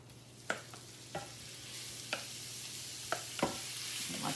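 Steak bites fry in butter in a pan with a steady broadband sizzle, broken by a few sharp spattering pops and light scrapes at irregular intervals, close and moderately loud, with no voices.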